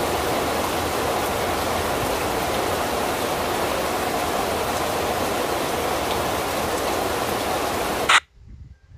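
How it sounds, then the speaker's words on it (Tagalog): Heavy rain pours down outdoors in a steady, dense roar that continues unbroken for several seconds, then cuts off abruptly into near silence. "Kanina napakainit, bigla namang umulan."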